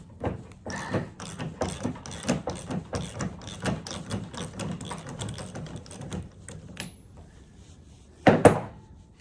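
A ratchet wrench loosens a 27mm nut, with rapid close clicking bursts in an uneven rhythm, then quieter handling and a louder clunk near the end.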